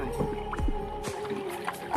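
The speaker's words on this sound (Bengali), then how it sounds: "আর আমরা নৌকাতে যাচ্ছি" A boat moves across water with a steady low hum and soft splashing and gurgling, close by with no voices.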